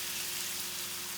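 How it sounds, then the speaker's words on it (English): White wine hits a hot pan in an Instant Pot to deglaze it, giving a steady, close sizzle and crackle like light rain, with a faint constant hum underneath. "a touch of white wine, just to deglaze it a bit"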